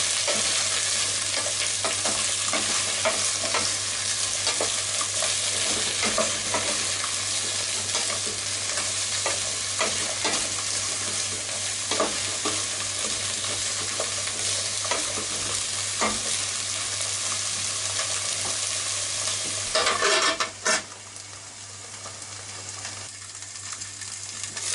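Canned mackerel and shirataki sizzle and crackle steadily in a hot pan while being stirred, with soft scraping clicks throughout and a brief clatter near the end, close up and without voices.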